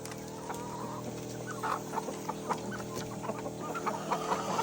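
Parent-stock chickens in a poultry breeder house cluck in short, overlapping calls over a steady mechanical hum, fairly close but not loud.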